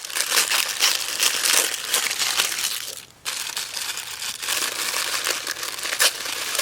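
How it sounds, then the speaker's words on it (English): Tissue paper crinkles and rustles loudly while a gift is unwrapped, with dense bursts of crackling handling that pause briefly midway and then resume, close up. "We have some really cute tissue paper."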